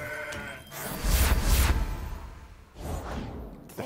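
A goat bleats as a goat card is played in the Legends of Runeterra card game, with a brief whooshing effect and a loud, close bleat lasting about a second before the sound fades.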